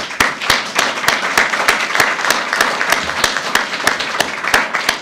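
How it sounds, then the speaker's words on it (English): An audience applauds the 2018 chef ambassador class with dense, steady clapping that holds at an even level throughout, with a few louder individual claps standing out. "if you'll join me in a round of applause for our 2018 class"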